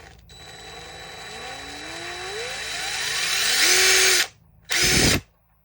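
An old DeWalt DCF885 cordless impact driver, just brushed clean, whirs up, its pitch rising steadily and getting louder, cuts off briefly, then gives one more short loud burst.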